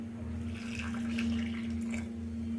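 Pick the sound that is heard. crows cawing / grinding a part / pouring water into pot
pouring water into pot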